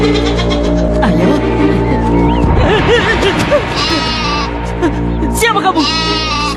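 Goat bleating in a dramatized scene, wavering cries rising over a dense, loud background of music and noise, with people talking around them.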